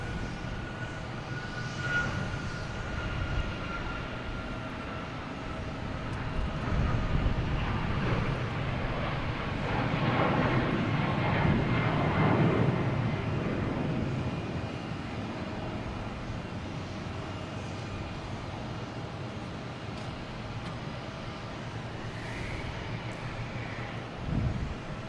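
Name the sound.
Alaska Airlines Boeing 737 MAX 9 aircraft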